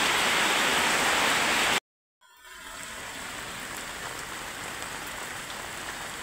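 Heavy rain pours steadily onto a tomato crop field in Malur taluk, Kolar district, as a dense close hiss that briefly cuts out and then resumes at a slightly lower level.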